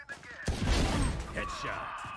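Gunfire in the Valorant game during a competitive match, a short loud burst of shots that sounds like a spray or fusillade, heard amid crowd noise and faint background commentary.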